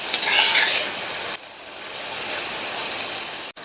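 Masala powder and salt sautéing in a hot pan for a Tamil raw banana dish, a loud steady sizzle with a brief stirring scrape at the start, then a continuous hiss that cuts out for a moment near the end.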